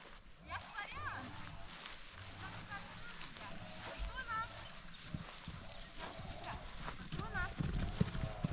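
Hooves clip-clop close by as a mare neighs a few times, with people talking over the steady ambient noise.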